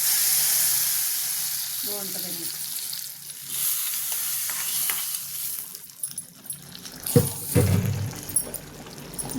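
Tempering of dried red chilies, garlic, cumin, curry leaves and mustard seeds sizzles in hot oil for an Andhra-style gongura chicken liver curry, a steady hiss with clattering stirring growing louder near the end and a brief spoken line.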